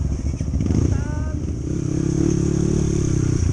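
A motorcycle runs along a trail toward a camping site, its engine chugging close and loud, with a brief rev midway and clattering from the rough surface.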